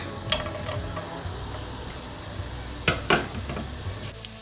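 Garlic frying in oil in a pan gives a steady low sizzle with a few sharp stirring scrapes, heard up close with no talking.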